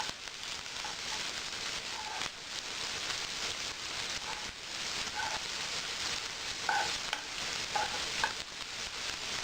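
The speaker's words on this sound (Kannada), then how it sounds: "ಈರುಳ್ಳಿ, ಚೆನ್ನಾಗಿ ಮಿಕ್ಸ್ ಮಾಡ್ಕೊಳ್ಳಿ" Sliced onions with curry leaves fry in a pan for pepper chicken, giving a continuous soft sizzle with light scraping stirs throughout, fairly quiet and with no voices.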